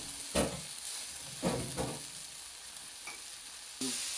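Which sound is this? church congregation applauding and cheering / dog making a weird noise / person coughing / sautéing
sautéing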